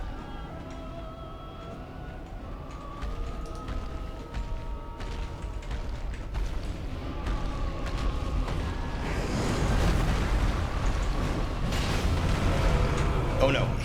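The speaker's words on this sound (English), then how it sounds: "he gets really low on health and then he does a big explosion" A large, rising blast from a boss exploding in Dark Souls 3, building from rumbling game noise into a loud, broad roar that stays dense and sustained through the final seconds, with no one talking.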